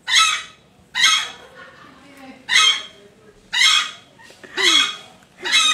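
A chicken calls in loud, harsh bursts roughly once a second, six strained squawks with short quiet gaps between them, close and clear.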